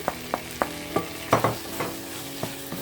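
Metal utensil scraping and stirring cardamom powder and nutmeg frying in a pan for chicken biryani, with about eight distinct strokes at an uneven pace over a soft sizzle.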